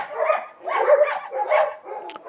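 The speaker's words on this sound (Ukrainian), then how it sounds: "що там ті пси так гавкають? на цілу вулицю" Several dogs bark repeatedly out on a village street, a continuous run of overlapping barks at moderate distance with brief pauses between bursts, no talk over them.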